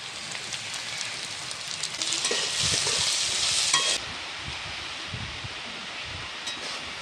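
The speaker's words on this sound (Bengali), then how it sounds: "দেখো আমার খিচুড়ি করতে করতে বৃষ্টি এসে গেছে" Rain falling outside a home kitchen during cooking, a steady hiss that swells louder for a couple of seconds midway, alongside faint sizzling and stirring, with no talk.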